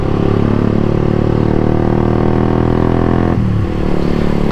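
Honda CBR150 motorcycle ridden on a smooth road, its engine droning loud and steady with a close rumbling hum that drops in pitch near the end as the throttle eases.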